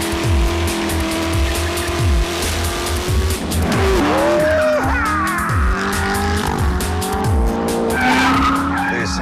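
A Corvette ZR1 with a supercharged 6.2-litre engine is driven hard, its engine roaring near and loud while the tyres squeal and skid in long sliding tones over pulsing exhaust.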